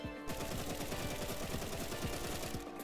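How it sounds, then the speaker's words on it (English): Rapid automatic fire from an assault rifle shot without a scope in the video game Rivals, a dense continuous burst of gunshots running nearly three seconds at steady loudness. "if you're aiming with an assault rifle, this is with no scope"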